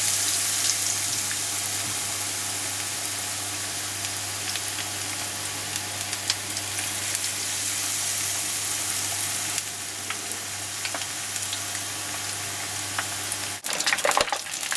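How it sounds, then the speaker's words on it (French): Gluten-free asparagus tempura fritters fry in hot oil with a steady, loud sizzle that runs almost unchanged, then a brief clatter of utensils near the end. "Je l'accompagne dans l'huile."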